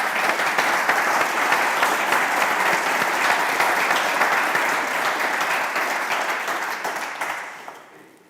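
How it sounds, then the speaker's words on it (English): An audience applauds the panelists at a panel event on Scotland's pedal-based transport industry: dense, sustained clapping from a crowd holds steady for several seconds, then tapers off and fades near the end. "a round of applause for the panelists"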